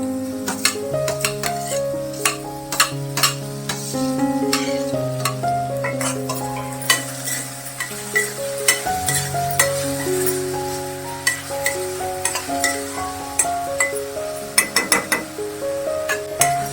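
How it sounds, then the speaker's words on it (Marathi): Tomato and softened onion sauté in a pan for a fenugreek and potato dish, with a steady sizzle under frequent spoon clinks and scrapes against the pan, while tonal background music plays throughout. "टोमॅटो चांगला परतून घ्यायचा"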